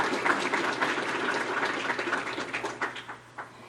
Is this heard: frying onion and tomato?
no